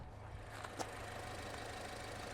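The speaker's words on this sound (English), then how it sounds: "Now you can hear that engine is actually on." A Tata Harrier or Safari diesel engine idles quietly with a low, steady hum, heard from nearby amid faint background noise, with a small click partway through.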